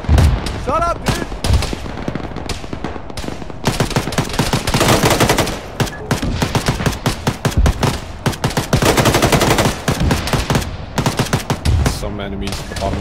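Sustained military video game firefight in ShackTac: rapid machine-gun bursts and dense rifle volleys crackle steadily for the whole stretch, loud and close, with shouted voices breaking through now and then.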